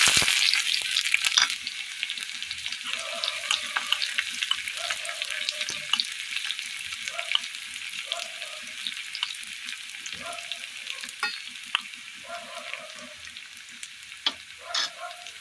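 Chopped shallots crackle and sizzle in hot oil with mustard seeds, a steady broadband fry with scattered pops and a few soft stirring scrapes throughout, close and moderately loud.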